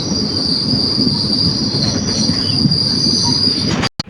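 A metro train passes close by with a loud, steady rolling rumble and a piercing wheel squeal throughout, ending with an abrupt cut and a brief dropout.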